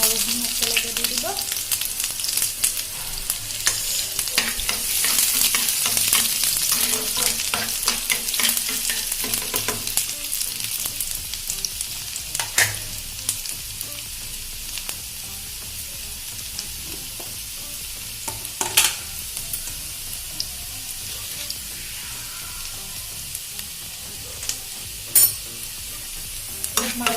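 Onion and garlic frying together in hot oil in a pan for an Assamese dish, a continuous close sizzle with intermittent scraping stirs and spoon taps throughout.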